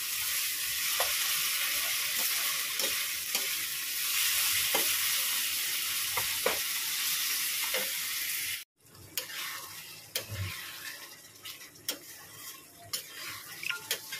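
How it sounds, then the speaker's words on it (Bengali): Goat meat with onion and garlic fries in a pan, a steady close sizzle broken by repeated scraping stirs, continuing after a brief cut with sharper spatula clatter and no talk. "ভালো করে এটা কষিয়ে নেবো, খুব ভালো করে কষাবো যাতে পেঁয়াজ রসুনের কাঁচা গন্ধটা চলে যায়।"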